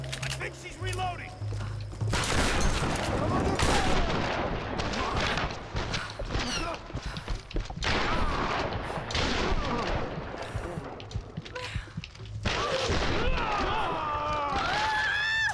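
Gunfire in the Tomb Raider 2013 video game: several loud bursts of shots with booming impacts spread across the clip, mixed with game sound and talk.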